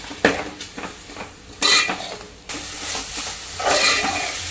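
Small jawla shrimp stir-fried in a pan, with loud close scrapes and clatters of a spatula against the metal in bursts over a soft sizzle.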